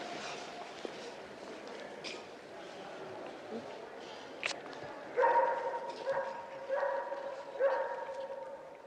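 Puppies barking and yipping in a few short bursts toward the end, moderately close, over a quiet indoor background with a voice talking.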